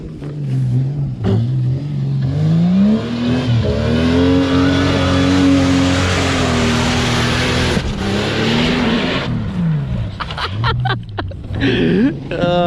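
A car engine revs hard and close, holding a loud, rising drone with pitch swings as it accelerates, dropping briefly before more sharp revving bursts at the end.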